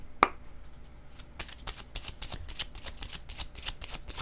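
Playing cards shuffled and flicked in a steady run of crisp riffling snaps, with one sharp louder slap near the start, close and clear with no talking.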